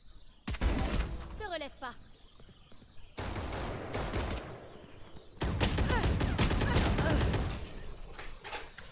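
Gunfire in the game Valorant comes in loud, close bursts and rapid volleys, broken by brief gaps, with someone talking over it.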